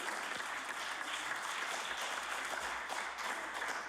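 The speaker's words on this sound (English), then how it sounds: "So I ask them to rise and receive the warm applause of this House." Sustained applause fills a legislative House of Assembly chamber, a dense steady wash of many hands clapping together at even loudness from start to finish, with no voices rising above it.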